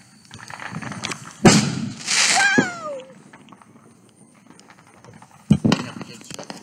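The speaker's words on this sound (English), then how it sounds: "They're disguising the UFO's noises with firecrackers." Firecrackers going off outdoors at night: a couple of sharp loud bangs, one near the start and one near the end, with a whistling crackle between them and background voices murmuring.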